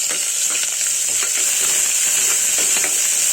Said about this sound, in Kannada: ಆಗಿದೆ, ಈರುಳ್ಳಿ ಫ್ರೈ ಆಗಿದೆ